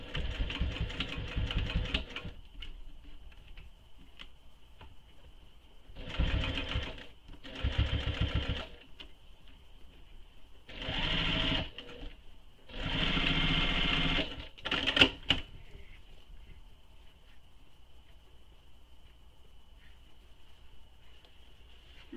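A sewing machine stitching a clutch bag runs in several bursts of rapid mechanical whirring, the longest near the start and another around the middle, with a steady motor hum persisting between runs; close and fairly loud, no talking.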